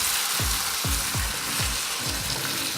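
White beans sizzle in a hot pan while a spoon mashes them, giving about five soft rhythmic presses over a constant bright frying hiss, close and fairly quiet, with no talk.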